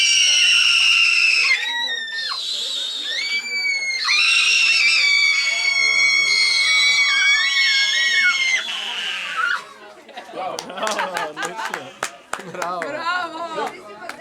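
A crowd of people scream together on a counted cue, several long, loud, overlapping shrieks that hold for a few seconds each, then break into excited shouting, laughter and clapping.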